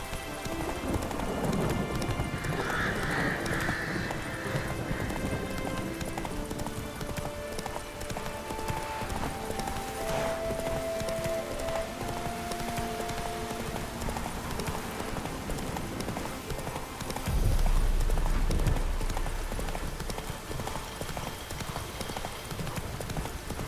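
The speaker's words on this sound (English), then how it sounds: "Run, Roach" In the video game The Witcher 3: Wild Hunt, a horse gallops with rapid, continuous clip-clop hoofbeats, close and steady, over a background of rain-like ambience and faint game sounds. A brief low rumble joins near the end.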